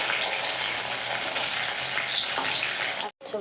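Paneer kofta balls frying in hot oil, a steady dense sizzle and bubbling that runs loud and close for about three seconds before a brief cut.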